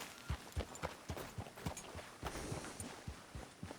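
Horse hooves clopping on the ground in Red Dead Redemption 2, a steady walking rhythm of soft thuds, fairly quiet and alone.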